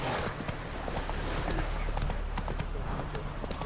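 Roach, the horse in The Witcher 3, gallops in a steady rhythmic clip-clop of hooves, close and fairly loud over a soft game ambience.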